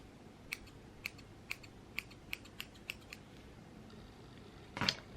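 Scissors trimming the hair of a highlighted bob wig, a steady run of about eight crisp snips close by, ending with a louder rustle, no talking.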